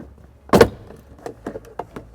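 A plastic storage tray is pulled up out of a Lexus RX350 interior after its push pin is pressed, one loud sharp crack of released plastic followed by several small clicks and rattles, close and without talk.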